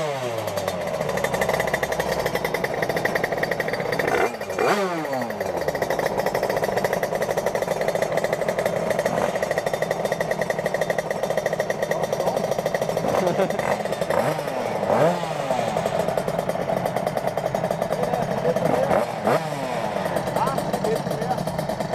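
Tuned high-end moped engine being ridden in first gear, a loud buzzing two-stroke note with repeated rising and falling revs, close and continuous, with people talking over it.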